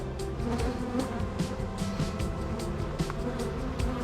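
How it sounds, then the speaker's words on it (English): Honeybees at an open beehive during a feeding and small inspection, a dense, continuous close-up buzzing hum that stays steady and alone with no talking. "you can see there's plenty of bees in there"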